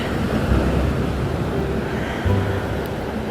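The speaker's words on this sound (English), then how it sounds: "Oh, the sound of the ocean is so beautiful." Steady ocean surf washes continuously at a beach during an outdoor yoga workout, a broad rushing roar with gentle swells rising and falling, plus some wind buffeting the microphone.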